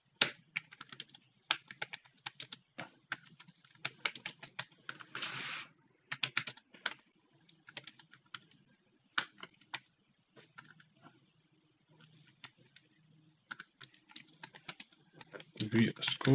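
A computer keyboard clatters in rapid, irregular bursts of typing while someone edits a GitHub readme, with short pauses between runs of keystrokes and occasional quiet talk underneath.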